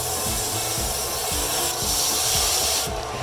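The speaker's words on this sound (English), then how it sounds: "I'm going to be using my belt sander to carve in the shape of the blade." A belt sander grinds and shapes an EVA foam sword blade, a loud continuous rushing hiss with repeated low thumps as the foam is pressed against the belt in slow passes.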